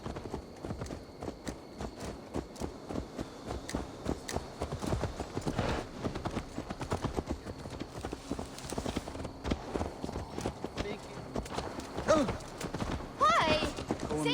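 Horse hooves clip-clopping at a walking pace in Assassin's Creed Valhalla, a steady rhythmic series of hoof strikes under ongoing talk and game sounds.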